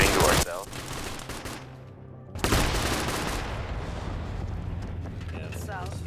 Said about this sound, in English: Do we have any intel on what the fuck is exploding to our south?